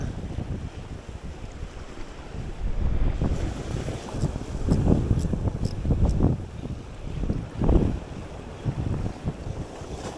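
Gusty wind buffets the microphone on a boat out at sea during a squid fishing trip, loud rumbling bursts rising and falling over a steady backdrop of water and surf, with no talk.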